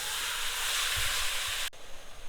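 Ground turkey fries in a pan, giving a steady close sizzle and hiss that drops off abruptly toward the end, followed by a brief clatter.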